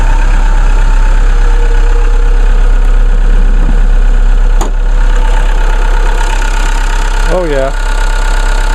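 A 2-liter, 4-cylinder Ecotec turbo diesel car engine idles loudly and steadily from close by, with a rough, knocking rumble and a short spoken remark near the end.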